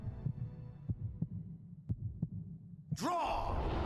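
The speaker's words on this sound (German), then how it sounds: "Geil, mit dem Herzschlag, ey." A slow, muffled heartbeat thuds in regular pairs during a boss fight against Revolver Ocelot in the PS1 game Metal Gear Solid, low and soft, before a sudden burst of louder game noise cuts in at the end.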